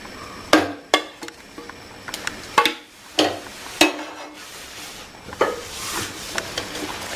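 Coconut paste ground with onion, chilli and turmeric being stirred into cooked dry tapioca in a pot, a handful of sharp scraping knocks from a spoon against the pot, close and moderately loud.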